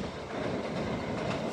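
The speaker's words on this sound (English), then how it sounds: "I'm assuming that's the Whatley Quarry train just come through that fast." Class 59 locomotive hauling a Whatley Quarry stone train through Westbury at speed, a loud, steady rumbling roar of wagons with dense clickety-clack from the wheels, heard continuously without talk.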